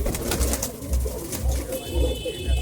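Pigeons coo in a loft, low rhythmic cooing pulses repeating about every half second, close and steady, with no talking.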